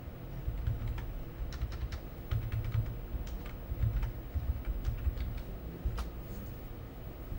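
Keys clack on a computer keyboard as a web address is typed into a Firefox browser, a quick irregular run of light taps over a low steady hum with no talking.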